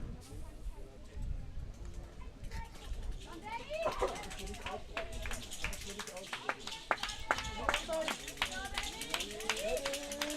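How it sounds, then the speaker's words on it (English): Bonn Capitals fans at a baseball playoff game against the München-Haar Disciples clap and cheer in scattered bursts from the stands, crowd noise steady throughout with sharp individual claps standing out. "Bonn fans trying to cheer on Lankhorst."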